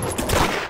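A short burst of gunfire from the video game Arsenal, loud and close, lasting under a second.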